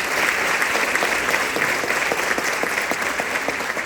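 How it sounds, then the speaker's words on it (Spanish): An audience at an international tarot congress applauds a speaker on mythology, a loud, dense and sustained wash of clapping from a crowded hall, steady throughout with no pause. "voy a pedir un fuerte aplauso para él"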